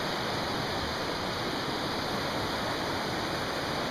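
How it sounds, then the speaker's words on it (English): Baxter Creek flows through the Great Smoky Mountains in a constant, even rush of water, loud and unbroken, with no voices. "This is Baxter Creek, which runs through here"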